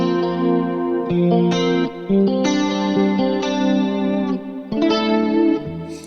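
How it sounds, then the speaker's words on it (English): An electric guitar plays chords through an 80s-style tri-stereo chorus preset on a Quad Cortex, a swirling sweeping flange-like shimmer, notes ringing and changing every second or so. "It almost has like a flanging kind of sound."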